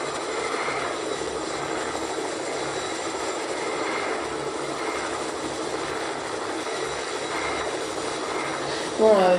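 Steady engine drone of a helicopter carrying a squad in the video game Fortnite, a continuous broadband rumble holding at even loudness throughout, with a brief sharper burst right at the end.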